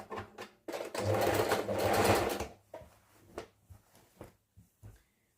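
A sewing machine stitching zigzag runs in a loud, close continuous burst for about two seconds, then continues in shorter intermittent stitching bursts.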